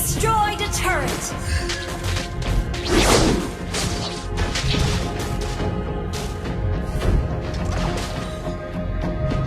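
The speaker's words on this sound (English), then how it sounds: "Your team destroyed a turret." Mobile Legends match with a turret being destroyed, loud crashing impacts and whooshing skill effects layered over game music, with an announcer-style voice speaking.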